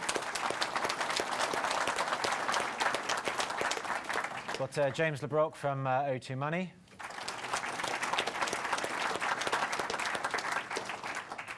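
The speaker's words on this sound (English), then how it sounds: "You can give him a round of applause if you like." Audience applause for panelists at the CEO Agenda 2013 event: dense, steady clapping from a crowd that briefly drops away while someone speaks, then swells back to full strength.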